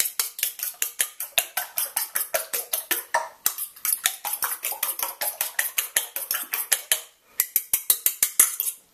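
A fork beats eggs in a bowl for Polish-style scrambled eggs, a fast steady run of bright metallic clicks against the dish with one brief pause before the rhythm resumes.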